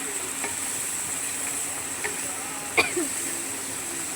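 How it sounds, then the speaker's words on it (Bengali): Spiced masala for a Bengali mashed-potato dish fries softly in a pan after a splash of water, giving a low steady sizzle with a few faint stirring clinks and scrapes. "হালকা করে জল দিয়ে দেবো যাতে এটা ঘিরে একটু মশলাটা থেকে তেল ছাড়ে"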